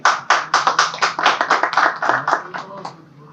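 Audience at a poetry book launch ceremony in Pakistan claps in a quick, fairly even run of distinct hand claps that thins out and fades over about three seconds.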